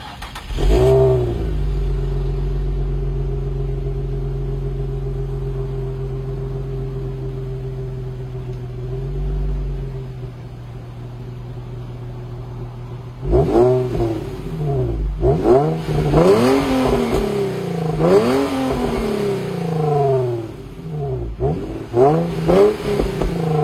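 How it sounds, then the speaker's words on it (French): An Infiniti G35 V6 starts with a burst and settles into a steady idle for about ten seconds, then is revved repeatedly in sharp rising and falling blips, loud and close, with no talking. "je vais la démarrer, donner quelques revs"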